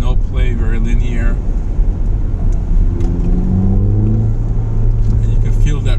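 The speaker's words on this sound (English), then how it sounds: "There's your induction noise." Ford Fiesta ST with a turbocharged four-cylinder, heard from inside while driving: a steady loud engine drone with rising induction whoosh and rumble, someone talking over it.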